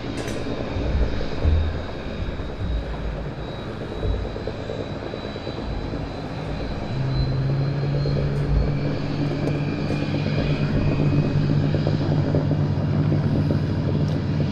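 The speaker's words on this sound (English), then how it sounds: "Even got the easyJet A320 Neo taxiing, or starting up at least." An easyJet A320neo airliner at Southend Airport taxis and spools up its engines, a broad steady roar that swells and settles into a sustained drone partway through, with no voices.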